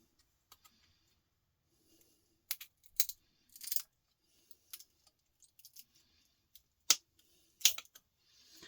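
Sporadic sharp clicks and snips from cutting the outer covers off electronic components, isolated faint bursts with quiet gaps, no talking.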